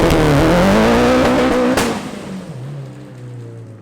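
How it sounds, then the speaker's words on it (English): Mitsubishi Evo 5 all-wheel drive car launching hard, its engine roaring loud and close as revs climb through a gear and a sharp shift crack cuts in, then the noise drops to a lower, fading drone. "It'd be really fun if I could launch the car."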